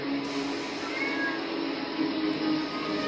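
A kitten meows against a steady, loud background hiss, the calls faint and partly buried in the noise.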